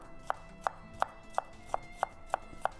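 Steady knife chops slicing cucumbers on a cutting board, eight crisp evenly spaced strikes in a quick regular rhythm, close and clear.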